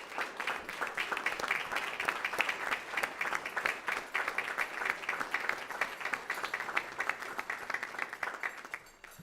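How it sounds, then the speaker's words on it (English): A crowd at a school board meeting applauds as a high school boys cross country team enters the room, with steady moderate clapping and crisp individual claps standing out, lasting about nine seconds. "how about we give a round of applause to the Weslaco High School boys cross country team as they enter"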